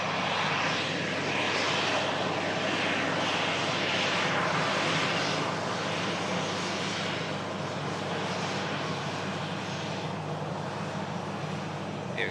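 An airliner taxis at an airport after landing, its engines giving a loud, steady roar and whine that holds without a break for the whole stretch.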